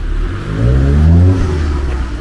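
A passing car's engine revs loud and close with a rising and falling roar near an old gateway, lasting about two seconds with no talk over it.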